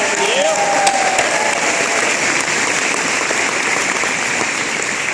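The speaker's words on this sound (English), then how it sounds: "let's give him a big round of applause" Loud, dense applause from a rally crowd fills the space continuously, a steady wash of clapping with a brief vocal tone near the start.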